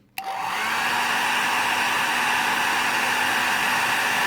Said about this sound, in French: On va mettre un petit coup de sèche-cheveux, histoire de l'assouplir un petit peu plus.